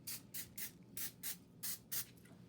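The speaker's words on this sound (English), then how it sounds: "I'm just going to use some non-stick cooking spray and just really quickly sort of" Non-stick cooking spray sprayed onto plastic wrap in about seven quick, separate hissing bursts, close and fairly quiet, with short pauses between them.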